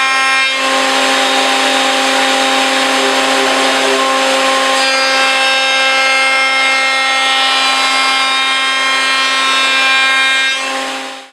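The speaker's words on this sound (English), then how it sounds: "I'm in the process now of just planing off the ends to make them absolutely smooth and level with this side." Wood ends of a table being planed level and smooth, a loud, continuous whining buzz that holds steady for about eleven seconds, near and alone with no talk.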